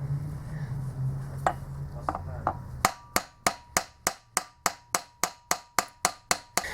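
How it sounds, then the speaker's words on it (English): Small hammer gently tapping an alternator slip ring down onto the rotor of a VW Audi Seat Skoda alternator, a run of about a dozen sharp, evenly spaced metallic taps, close and clear, after a few scattered knocks. "just give it small little gentle taps and it'll be going down as much as it needed to go down a bit"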